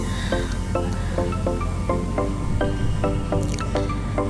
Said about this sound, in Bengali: আস্তে আস্তে লাড়তে থাকবেন